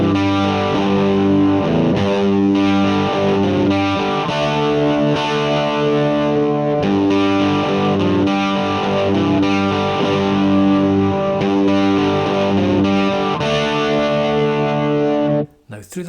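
Distorted electric guitar plays a song intro through effects, steady sustained chords and notes, loud and close, running continuously before cutting off abruptly near the end.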